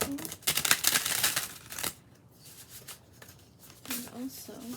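Tarot cards being shuffled by hand in a few soft papery bursts, riffling near and fairly loud, then fading, with a voice talking over part of it.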